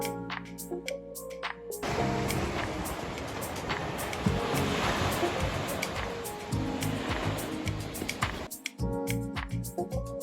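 Surf at Dona Ana Beach in Lagos, Portugal, a steady broad wash of waves breaking and rolling in for most of the stretch, loud and continuous, with brief sharp clicks before and after.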